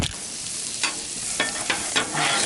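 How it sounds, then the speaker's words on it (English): Bacon and jalapeno burger patties sizzle loudly on a griddle, a dense steady hiss broken by a few brief scraping or clattering bursts. "Now we're gonna cook them on the griddle."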